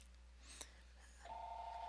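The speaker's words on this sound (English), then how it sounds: "you'll hear the phone ring here in the background" A telephone rings from an incoming Google Voice call, heard as a faint steady ring tone that starts partway through, preceded by a soft brief blip against quiet background hiss.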